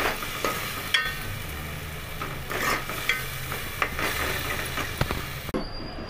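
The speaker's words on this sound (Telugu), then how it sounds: "ఇవన్నీ వేసుకొని మంట సిమ్లో పెట్టుకొని బాగా వేగనివ్వండి." Masala frying in oil on a low flame, with a soft continuous sizzle broken by intermittent scraping stirs of a spoon against the pan, close and fairly quiet.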